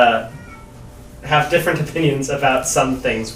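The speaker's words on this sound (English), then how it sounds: "Is the cat singing along with the TV?" A cat meows repeatedly in short, rising calls near a TV indoors, the cries overlapping and close by, with people talking over them.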